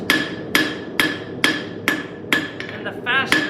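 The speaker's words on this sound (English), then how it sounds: "you use your hammer and more metal moves" Hammer blows ring out on hot metal at an anvil while S-hooks are forged, six sharp, evenly spaced strikes close by, each leaving a bright metallic ring, with a quick lighter tap near the end.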